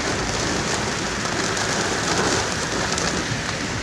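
Torrential rain pours during a heavy storm in Chicago's Chinatown, a dense, loud, continuous hiss of drops pelting surfaces with no break and no voices.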